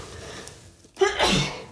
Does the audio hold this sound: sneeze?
yes